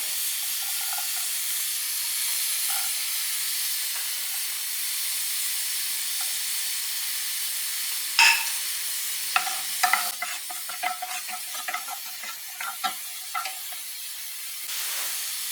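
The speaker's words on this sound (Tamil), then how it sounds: "கீ போட்டு நம்மக்கிட்ட வெட்டி வச்சிருந்த வெங்காயத்தை அதில் போட்டு உதக்கி எடுக்க போகிறோம்" Chopped onion frying in ghee for a Mangalore-style chicken ghee roast, a steady close hiss and sizzle that runs throughout, with stirring scrapes and clatters joining in the second half.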